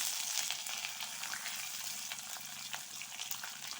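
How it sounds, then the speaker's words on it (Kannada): Curry leaves crackling and spitting in hot oil for amla rice, a faint, steady sizzle with scattered sharp pops, no voices over it. "ಸ್ವಲ್ಪ ಕರಿಬೇವು ಹಾಕ್ತೇನೆ."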